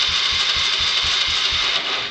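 A Honda engine cranks over without catching, a rapid rhythmic chugging of the starter that stays loud and steady before easing off at the end.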